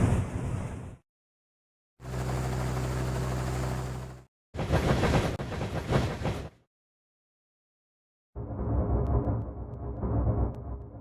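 Cartoon trains in a Dinosaur Train racing game rush along the rails in loud bursts of rumbling, whooshing engine noise, separated by stretches of silence.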